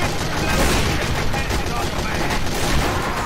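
Rapid gunfire from a shooter video game, a dense continuous burst of shots running the full length at steady loudness, with no clear pauses between rounds.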